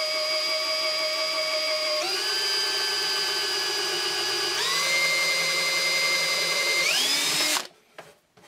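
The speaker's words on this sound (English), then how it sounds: "I then drill a smaller pilot hole that goes into the meat of the handle" A power drill whines steadily for several seconds, its pitch stepping up as it bores a pilot hole into a reclaimed wood handle, then winds down and stops.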